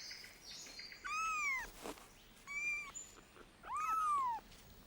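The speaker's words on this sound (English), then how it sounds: "It's feral cat, a gone wild import." A feral cat in an Australian forest gives three drawn-out, wavering meows spaced about a second apart, fairly close and clear over a quiet wooded background.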